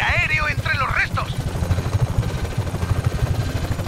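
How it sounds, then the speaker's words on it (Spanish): Helicopters approach in the video game Just Cause 3, a steady low rotor thrum running under excited speech throughout, with a brief melodic game sound at the start. "¡Vienen helicópteros, Rico!"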